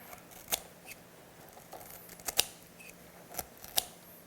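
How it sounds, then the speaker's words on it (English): Kitchen shears cut the core out of a pineapple in a home kitchen, making four crisp, close snips at irregular intervals over a quiet background with no talk. "I'm going to use my kitchen shears. See if I can cut the core out."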